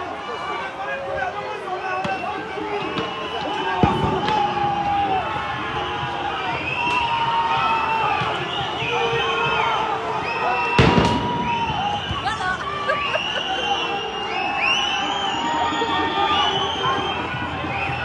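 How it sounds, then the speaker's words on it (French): Tear gas grenades pop and thud at a Paris street protest of healthcare workers, with two sharp bangs standing out amid a constant crowd roar and nearby chatter. "Il y a des gaz lacrymogènes"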